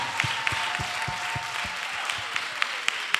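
A church congregation applauds and cheers with steady, dense clapping and crowd noise throughout, with rhythmic low thumps beneath, likely clapping in time or a drum.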